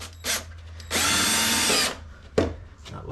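A power drill drives a screw into a wooden french cleat in a workshop, one steady loud whine of about a second after a short blip, followed by a sharp knock.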